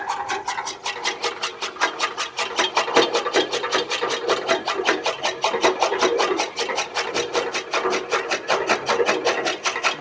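Workshop cutting machine running a test cut at an engineering shop in Jessore, giving a steady, loud rasping buzz with rapid regular pulses throughout, close by and with no talk.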